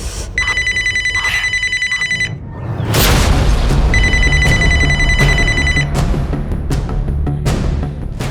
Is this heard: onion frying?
no